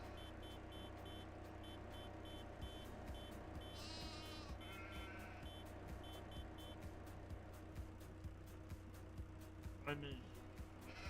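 Sheep bleat in the farming video game Farming Simulator 25, a few wavering cries heard alongside steady beeping and machinery hum, with someone talking over the game.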